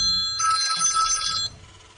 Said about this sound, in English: Sorry about that. Phone call.